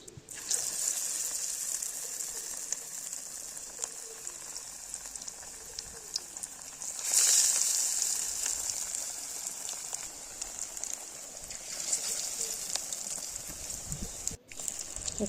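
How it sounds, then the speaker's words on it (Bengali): Spicy chana dal fritters sizzle in hot oil in a kadai, a steady bright hiss with crackling that swells briefly midway, close and fairly loud with no talk. "কড়াইয়ে তেল গরম হতে দিয়েছি, এবার এর মধ্যে বড়ার আকারে এগুলো ছেড়ে দেবো।"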